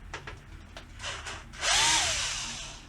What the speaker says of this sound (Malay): So driller ni kita buka lah semua skru dia.